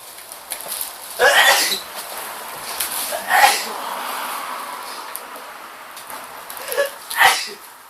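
A short, sharp burst like a sneeze, followed by a couple more breathy bursts spaced a few seconds apart over a low background hiss.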